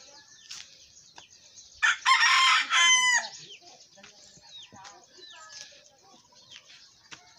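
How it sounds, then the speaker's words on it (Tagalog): Chickens cluck around a yard in rural Bicol while a rooster lets out one loud, close crow, followed by softer scattered clucks and calls; a voice speaks briefly. "Daming manok. Mga manok ko yun"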